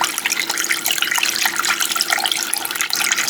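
A small aquarium power head pump turned all the way up drives water in a continuous, close rushing and splashing churn, with no talking.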